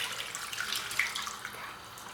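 Thick leftover liquid from slow-cooked beef short ribs pours steadily into a pan, a quiet continuous trickle with a couple of brief splashy accents, no talking.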